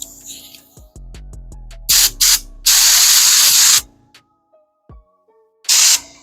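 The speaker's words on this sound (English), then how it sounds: "we're gonna start doing the first coat of clear." Clear coat is sprayed from a rattle can onto the restored tail lights of a Honda Civic EF or Integra, with several loud close hissing bursts, one long and the others short, between can rattles and clicks.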